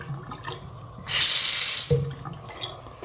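A hotel bathroom sink faucet at the Hilton Anatole in Dallas runs briefly, a loud hiss of water for about a second, then shuts off, amid quiet room background.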